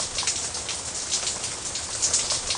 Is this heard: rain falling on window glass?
yes